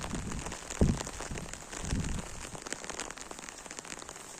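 Steady rain patters on an umbrella over garden beds during a downpour, a dense close hiss with a few heavier drops and handling knocks.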